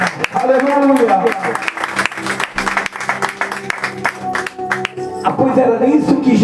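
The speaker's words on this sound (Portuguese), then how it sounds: "Pode aplaudir a Jesus, igreja" Church congregation clapping for Jesus during a Brazilian sermon, moderate applause mixed with voices, music and a strong tonal sound throughout.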